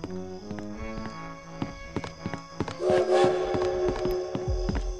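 A train rumbles and clatters past nearby, with rhythmic rail clicks and a brief tonal whistle-like sound in the middle.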